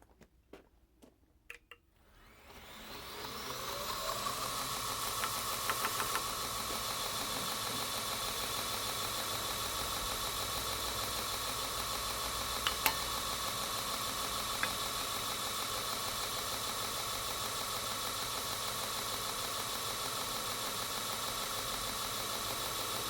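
A belt grinder fitted with a 220 grit belt starts up after a few quiet seconds with a few clicks, then settles into a steady, even whirring drone that runs unbroken to the end.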